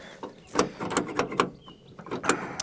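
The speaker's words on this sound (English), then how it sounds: "Door doesn't open." Someone tries the jammed door of an old 1980 Dodge truck abandoned for 22 years, producing several sharp metallic clunks and rattles of the latch and handle in quick succession, fairly close.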